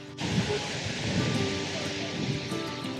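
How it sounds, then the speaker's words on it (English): Steady outdoor wind at a festival campsite buffeting the microphone, a loud broadband rush with low rumbling gusts that holds constant throughout. "It's windy, isn't it?"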